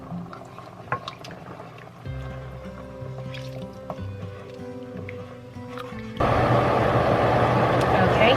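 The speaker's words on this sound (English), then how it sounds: "I'm turning this down to medium so it just simmers and doesn't just openly boil like this" Turkey chili bubbling at a rolling boil in a pot on the stove, soft gurgles and pops at first, then a steady loud hiss of a kitchen fan or steam for the last couple of seconds.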